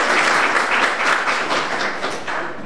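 Loud, dense applause from a ceremony audience at an independence evening honouring guests with the Ring of the Centenary, steady throughout and starting to ease at the end.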